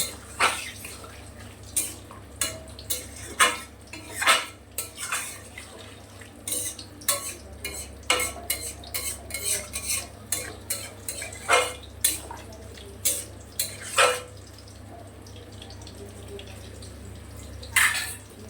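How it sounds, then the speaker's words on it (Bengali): Water goes into a cooking pot of okra and potato, followed by a long run of sharp clinks and scrapes as a utensil stirs against the pot, irregular and close. "জল দিয়ে দিলাম।"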